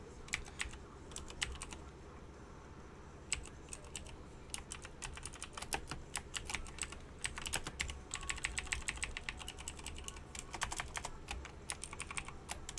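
Fingers type on a computer keyboard in rapid, irregular bursts of crisp clicks and clacks, close and fairly quiet, continuing steadily with no speech.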